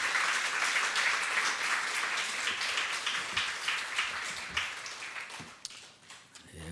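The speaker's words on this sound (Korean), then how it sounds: "우리 믿음을 고백한 이들을 위해 큰 박수로 축복해 주시길 바랍니다" A church congregation gathered for a Christmas thanksgiving service breaks into sustained, dense applause, a steady wash of many hands clapping that carries on for several seconds and thins out slightly toward the end.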